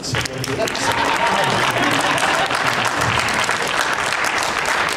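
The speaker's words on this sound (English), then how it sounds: "So a big round of applause" A crowd breaks into loud, sustained applause, dense clapping that holds steady throughout, with some voices mixed in.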